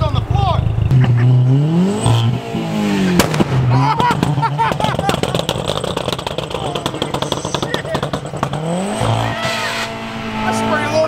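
Turbocharged 07K five-cylinder engine swapped into a Porsche 944 revs hard and loud with rising and falling pitch, crackling pops and sharp bangs, while excited voices shout over it.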